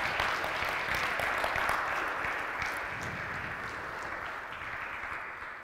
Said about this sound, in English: let's do that with a round of applause.